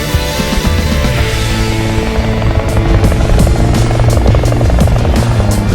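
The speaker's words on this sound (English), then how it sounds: "As we set off for a helicopter spin across the island" A helicopter flies over Palma de Mallorca. The rotor throbs steadily and loudly, close by, with a constant low whine and a broad wash of engine and wind noise throughout.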